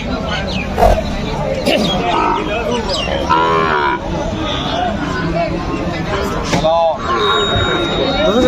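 At a cattle market in Joypurhat, Bangladesh, where Sahiwal calves are sold, cattle moo repeatedly in short, loud calls amid constant crowd chatter and nearby voices.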